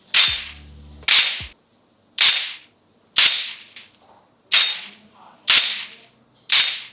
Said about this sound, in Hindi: अभी भाई इसका BGMI के अंदर गनफायर टेस्ट आप देख लो।